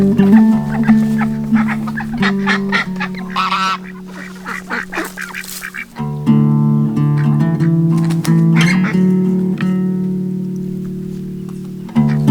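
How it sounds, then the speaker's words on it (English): A guard goose kept with chickens honks loudly and repeatedly up close, its harsh nasal calls coming in steady runs, with faint clucking and other fowl sounds mixed in and no talk. "There's Donald, our guard goose."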